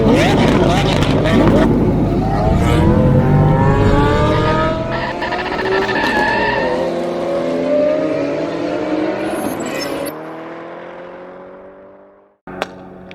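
A highly modified car's engine revs and roars loudly up close, pitch climbing and falling through several sustained pulls before cutting off near the end, with voices talking underneath.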